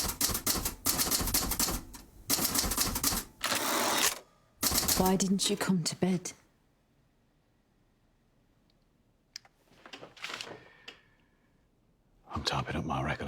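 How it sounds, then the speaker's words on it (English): A typewriter clacks in rapid bursts of keystrokes, loud and close, then falls silent before a few scattered strikes and a final burst, with a spoken line between the bursts. "I'm typing up my recollection of the meeting."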